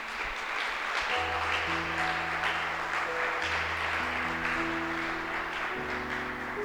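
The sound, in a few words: church congregation applause for Jesus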